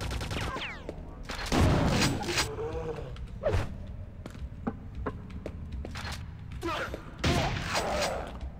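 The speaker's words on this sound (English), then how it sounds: "Are you gonna stop to try to shoot at me at some point?" Gunfire and mechanical clanks from the video game Quake 2 64, PC remaster, with sharp bursts scattered across the span, loudest clusters near the start and end, mixed with creaking game effects.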